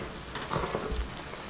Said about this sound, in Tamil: நம்ம தாளிச்சிட்டு புளி கரைச்சல் வந்து கொதிச்சிட்டிருக்குங்க